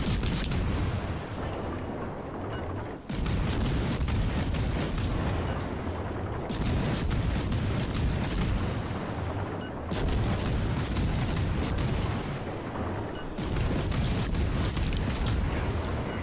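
British cruiser Minotaur in the naval battle game World of Warships Legends firing its main guns in repeated booming salvos, each a loud dense rumble lasting a few seconds, separated by short pauses.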